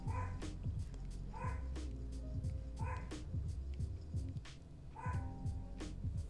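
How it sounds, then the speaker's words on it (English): A Yorkshire terrier barks repeatedly in the background, in short rhythmic bursts of sharp yaps at a steady pace, with several other dogs in the house and no speech over it. "That's my Yorkie in the back."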